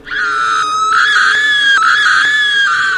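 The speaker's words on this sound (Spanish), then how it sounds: "Gritaba con una voz horrible y muy aguda." A woman screams in a high, piercing, sustained voice for about three seconds, loud and close, with the pitch wavering, during a nighttime encounter beside a bicycle.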